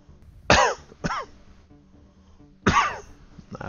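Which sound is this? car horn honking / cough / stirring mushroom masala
cough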